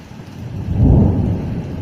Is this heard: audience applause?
no